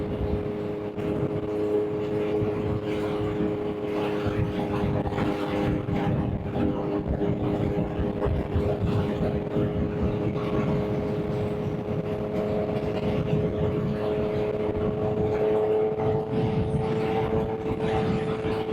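A motorcycle rides twisty back roads around Castroville, Texas, its engine a steady humming drone mixed with constant wind rush, holding an even pitch and loudness throughout.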